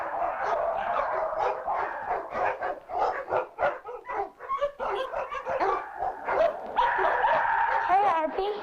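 A dog barks, yips and whimpers in short, uneven bursts, fairly close, with some whining tones toward the end; talk does not clearly stand out.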